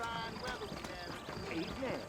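Horse hooves clip-clop softly in an uneven rhythm over a low ambient bed in Red Dead Redemption, with faint tonal game sounds drifting in the background.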